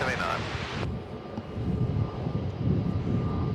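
A Qantas Airbus A330 jet moving on the ground at Melbourne Airport, its steady engine rumble carrying from a distance beneath heavy gusting wind buffeting the microphone, with a brief higher whine at the start.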